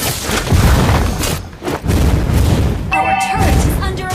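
Video-game explosions from an attack on a turret: heavy, continuous booms and rumbling blasts fill the mix, with a brief lull and a short electronic tone near the end.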